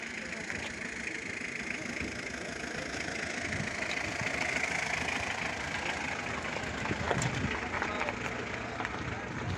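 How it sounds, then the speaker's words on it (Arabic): A used car's engine idles at a weekly second-hand car market in Fez, a steady mid-low hum running throughout under outdoor crowd noise and nearby voices. "هذا هو الموتور ديالها"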